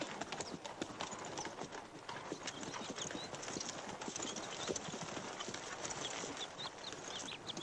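Horses arrive on hooves in a Western setting, a busy stream of overlapping clip-clops that stays steady and fairly close, with faint jingling gear in the mix.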